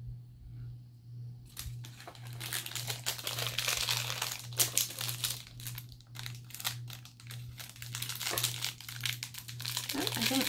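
Crinkly plastic toy packaging being opened and handled close up, with dense crackling and rustling bursts running throughout over a steady low hum.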